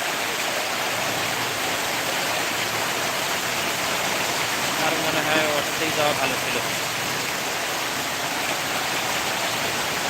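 Heavy torrential rain pours down as a dense, steady roar that never lets up, while a person speaks briefly in the middle.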